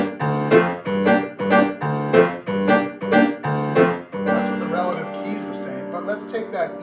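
Solo piano plays a theme in a 5/4 rhythm, with short repeated chord stabs for about four seconds before moving into a fuller, sustained passage with bright upper notes.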